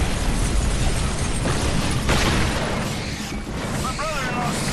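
A laser-ball weapon blast in the game Earth Defense Force: Insect Armageddon, loud and continuous booming explosions with roaring noise, filling the whole stretch.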